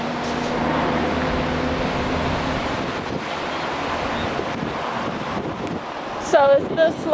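Steady ocean surf and gusting wind at Ocean Beach in San Francisco, a broad continuous wash with buffeting wind noise on the microphone and brief whistling near the end.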